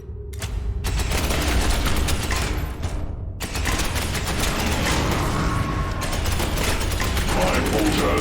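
Rapid mechanical gunfire from a bolter in the game Space Hulk Ascension, a dense clattering burst running almost continuously with a brief gap, loud and close, with faint voices now and then underneath.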